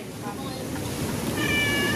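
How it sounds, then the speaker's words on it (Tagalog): A cat meows steadily and fairly close by, its voice overlapping with talk and broad background noise that fills the short stretch. "Pati pusa."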